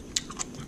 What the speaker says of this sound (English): I've gotten to the point where I can just eat Irish moss, the seaweed, by itself.